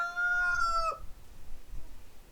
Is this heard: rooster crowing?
yes